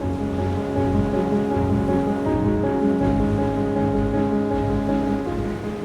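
Atlantic Ocean waves washing onto a secluded golden beach inside a sea cave, a continuous loud roar of surf with rumbling low tones and steady churning, with no voices.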